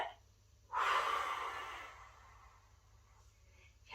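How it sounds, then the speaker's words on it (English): A single deep breath blown out forcefully, a strong breathy exhale lasting about a second and fading slowly, close and alone in a quiet room. "Big breath in and blow."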